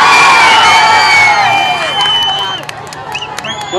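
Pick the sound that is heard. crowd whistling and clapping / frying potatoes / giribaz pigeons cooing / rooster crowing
crowd whistling and clapping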